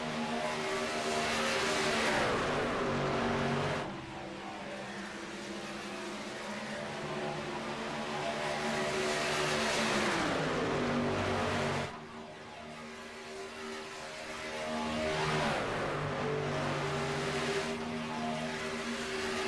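Race trucks in a racing video game roar past in a pack on an oval track, engines droning loudly with repeated surging swells and pitch sweeps, no voices over them.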